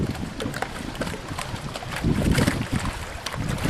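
A fast racing boat powered by a 2.4-liter dual-port Mercury racing engine with racing lower units runs out on the water, a steady loud roar mixed with wind buffeting on the microphone and no talk.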